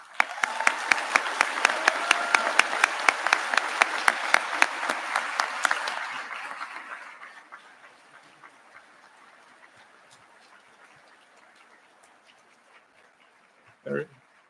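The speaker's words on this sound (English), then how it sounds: "we applaud all of your achievements" A graduation ceremony audience in a theater claps loudly and densely for several seconds, then the applause fades away into quiet room tone, ending with a short isolated noise.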